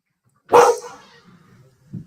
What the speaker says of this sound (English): my dog's going nuts